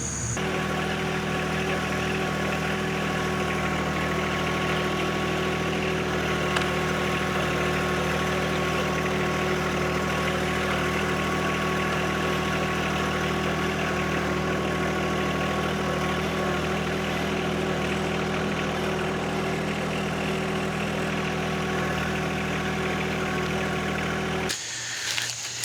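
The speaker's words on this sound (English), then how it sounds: "we're going to use the tractor to help us out" A tractor engine idles in a yard at an old Victorian house, a steady, droning low hum with faint tonal whine that holds unchanged for over twenty seconds before cutting off abruptly at the end.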